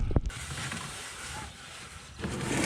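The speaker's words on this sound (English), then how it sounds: "Let me jack up the back and do a little bit more" Mechanical creaking and clicking sound up close as the back of a Kubota X1120D side by side is jacked up, with a sharp knock at the start and a steady mechanical noise throughout. No one speaks.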